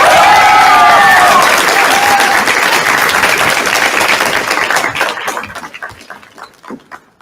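A large graduation ceremony crowd applauds loudly and continuously for a class of 2022 university speaker, a dense wash of clapping that slowly thins and fades toward the end into scattered final claps.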